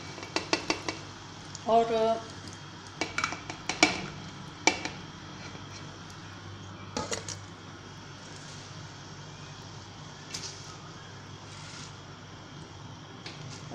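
Sarson ka saag ingredients being stirred and mixed in a metal pot, with scraping and clinking of a utensil against the pot in short bursts early on, then quieter, with a brief word of speech.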